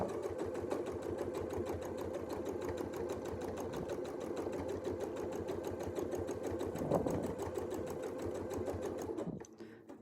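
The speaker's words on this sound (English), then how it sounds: "So I'm just going to maybe take 2 stitches up so I can get a little bit more curvature on there." A sewing machine stitching a quilt runs in a steady, rapid needle rhythm for nearly ten seconds, then stops abruptly near the end.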